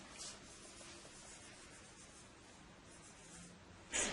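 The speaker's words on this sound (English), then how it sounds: "So I'm just going to write that." A pen writes on paper during a classroom physics experiment with trolleys, a faint, continuous scratching close by in a quiet room, ending in a brief louder scrape.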